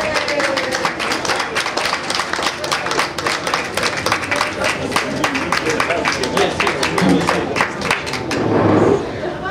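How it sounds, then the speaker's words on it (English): Audience applause at a fine jewelry seminar aboard a cruise ship, steady close clapping from a room of people with some crowd murmur, lasting the whole stretch. "I need to give a big round of applause for Mr. Joseph Aviv, ladies and gentlemen"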